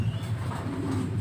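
Homing pigeons kept for breeding coo softly and continuously, a low throaty burbling close by with a faint higher chirp mixed in.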